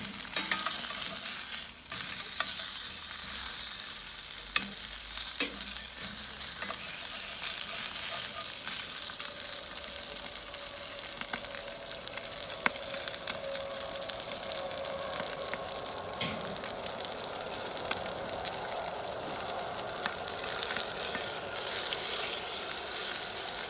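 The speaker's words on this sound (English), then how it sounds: "Quite a lot of fat rendering out here." Pork secreto sizzles in a pan on a Weber grill as fat renders out, giving a constant dense crackle with occasional sharper pops throughout.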